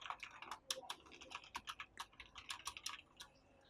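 Close, fairly quiet typing on a computer keyboard in rapid irregular bursts of key clicks, trailing off near the end.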